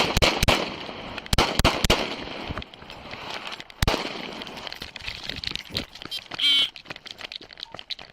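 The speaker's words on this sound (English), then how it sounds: "Shots fired!" Several sharp gunshots crack out in an outdoor police chase, a quick cluster early on and another single loud shot mid-clip, with shouting voices and radio chatter around them.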